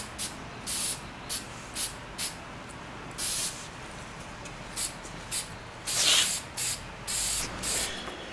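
Short bursts of aerosol spray paint coat a rusty motorcycle brake lever from a Honda Sabre, an irregular series of hissing puffs, some brief and some longer, with quiet gaps between them.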